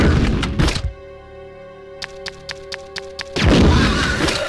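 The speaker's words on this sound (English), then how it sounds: "I got my grenade launcher." Grenade launcher firing in the video game Resident Evil 2: a heavy thunking shot, then a sustained game tone with a rapid run of sharp clicks, followed by another loud burst of noise.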